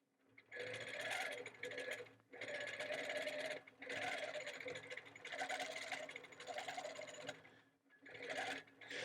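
A Handi Quilter longarm quilting machine runs in long bursts while basting a quilt, its steady motor whir and rapid needle stitching stopping and restarting several times, close and fairly loud.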